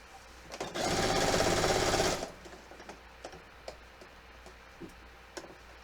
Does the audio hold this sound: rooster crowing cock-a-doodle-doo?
no